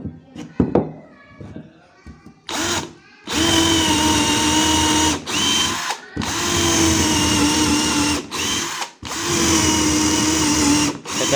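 An NRT PRO DC340 cordless drill whirs loudly and close in three long runs separated by brief pauses, after a few light clicks and handling sounds.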